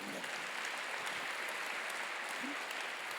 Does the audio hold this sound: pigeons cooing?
no